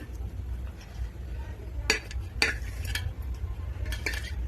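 Onions tossed into egg biryani in a pan, a spoon clinking and scraping against the metal in a few sharp strikes over a low steady background hum.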